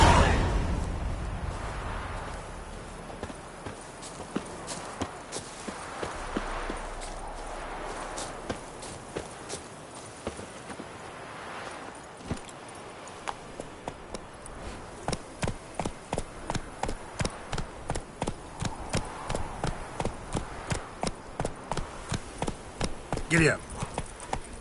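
Horse hoofbeats from The Witcher 3 start softly under game ambience and a talking voice, then grow into a regular, clearer clopping rhythm over the last several seconds as the horse picks up pace.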